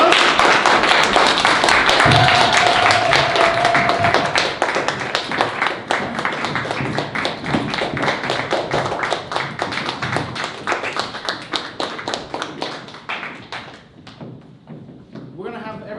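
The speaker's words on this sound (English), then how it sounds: "Would everyone come up and give them a round of applause?" Audience at a graduation show gives a sustained round of applause, dense clapping with some thumps and voices mixed in, gradually thinning and fading toward the end.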